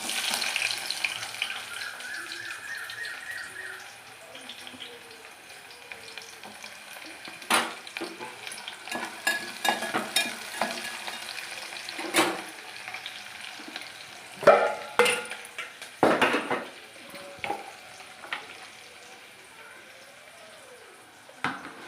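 Onions and green chilies frying in oil with bay leaf, cloves, cinnamon and curry leaves for a pulao, a soft steady sizzle with scattered spatula clinks and scrapes growing busier midway, fairly quiet, no talking.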